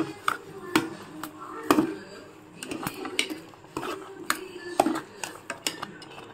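A spoon knocks and scrapes against a pot as sugar and coconut milk are stirred into a sweet, giving irregular clanks and taps at close range with faint background sounds.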